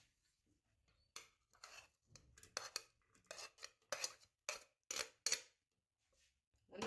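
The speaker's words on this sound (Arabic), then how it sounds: "نحط الزبدة في القدر، بعد كده نضيف البصل" Butter and onion going into a cooking pot for a healthy trotters soup, heard as a run of quiet, close clinks, scrapes and knocks of utensils against the pot, with gaps of near silence between them.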